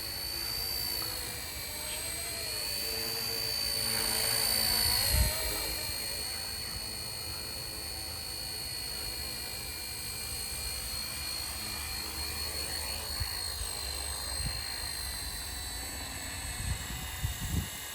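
A radio-controlled UH-1 model helicopter, its landing gear wrapped in electrical tape, comes in to land with a steady high-pitched rotor and motor whine that holds evenly throughout, with a brief thump of touchdown near the middle.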